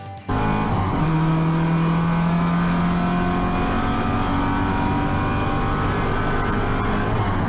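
Porsche 944 race cars racing at Calder Park Raceway, a loud sustained engine roar with clear rising and holding pitch tones as the cars pull hard past, filling the whole span without pause.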